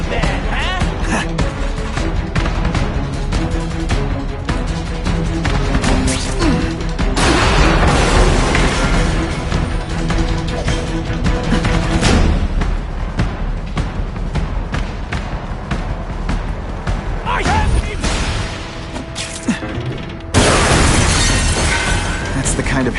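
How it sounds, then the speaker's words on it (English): Heavy explosions and shattering glass crash repeatedly in Spider-Man 2, with dense booming bursts and breaking debris filling the scene while voices talk over the chaos. "That's the kind of heavy artillery you see in a combat zone."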